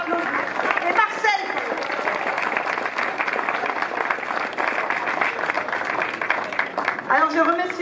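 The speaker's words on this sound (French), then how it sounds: "Donc on peut les applaudir." Sustained, loud applause from the audience at the inauguration of a village festival, the Fête au Pays du Ried 2023 in Holtzwihr, steady throughout with a few voices calling out over the clapping.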